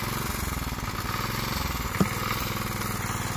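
A tractor engine chugs steadily and close by in Konkan paddy fields at rice sowing time, a loud rhythmic mid-pitched throb with one brief knock partway through.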